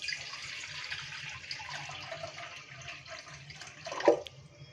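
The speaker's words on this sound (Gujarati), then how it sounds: "તેમાં આપણે 1 લીટર જેટલું પાણી એડ કરીશું" About a litre of water pours into a pot on a gas stove for malpua jaggery syrup, a faint steady trickling stream ending in a brief splash near the close.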